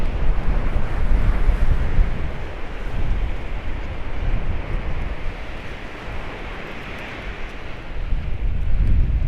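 Breezy wind rushes and buffets the microphone on a beach in Paphos, with a steady low roar of surf and waves underneath, continuous and fairly loud with no voices.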